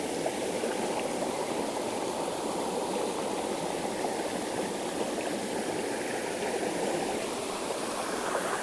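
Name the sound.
waterfall flowing water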